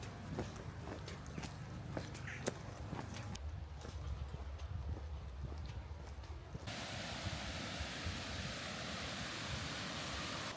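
A steady rushing roar of Slitting Mill Waterfall fills the background, with clopping steps over it at first, then a louder, fuller torrent takes over.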